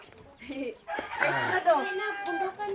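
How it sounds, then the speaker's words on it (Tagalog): Chickens and roosters clucking and crowing in a rural provincial home yard, with a crow rising over close clucks and mixed with nearby voices. "Where they keep the chickens and the roosters."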